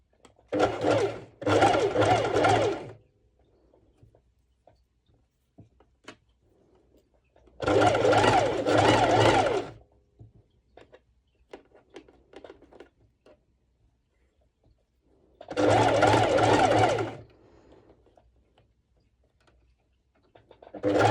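A sewing machine runs a straight stitch on a hoodie-style top in three separate bursts, each a couple of seconds of steady, close whirring, with near-silence between them.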